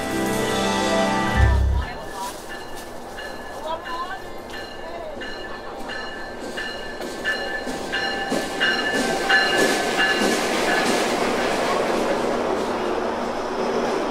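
A train rolls along the rails with steady rumbling and rhythmic clickety-clack, a brief thump at the start, the noise building gradually as it goes.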